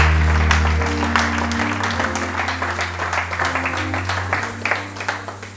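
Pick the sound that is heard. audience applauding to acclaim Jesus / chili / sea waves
audience applauding to acclaim Jesus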